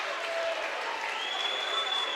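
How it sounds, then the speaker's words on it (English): Sparta fans at a high school boys basketball game against Pope John, a steady roar of applause and crowd noise filling the gym. "The Sparta fans have something to cheer about now"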